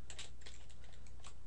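Brisk typing on a computer keyboard, a quick run of light, close key clicks in an uneven rhythm over a soft steady hiss, with no one speaking.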